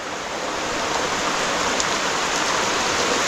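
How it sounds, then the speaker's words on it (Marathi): Rain falls steadily on a Konkan house construction site during plastering work, a continuous even hiss with no voices. "पावसाचा एवढा काही जोर वाटत नाही आहे पण आला आहे"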